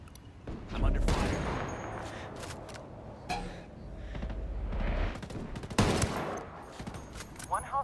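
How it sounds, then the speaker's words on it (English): Gunfire in the tactical shooter Ghost Recon Wildlands: quiet, scattered bursts and rattling automatic shots come and go amid muffled battlefield noise. "I'm under fire."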